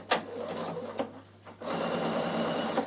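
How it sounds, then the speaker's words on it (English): A Bernina overlocker runs in short stop-start bursts, then settles into a steady stitching whir as it sews a garment neck band, heard close and fairly quiet with no talking. "once I've started sewing, I'm going to make sure my needle stop down function's on"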